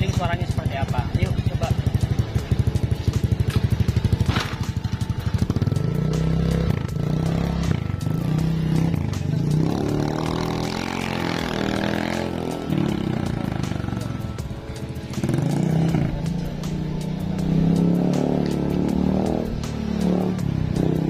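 Honda Scoopy scooter fitted with a modified original exhaust, riding around with a steady engine drone that rises and falls as it accelerates, heard close and fairly loud throughout with road clatter mixed in.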